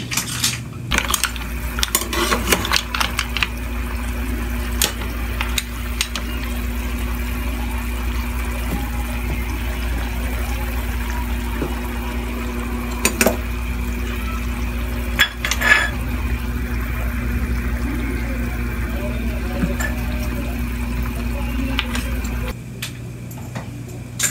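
Mussels (tahong) simmer in a buttery broth while a utensil stirs them, giving scattered clinks and scrapes against the pot over a steady low bubbling hum.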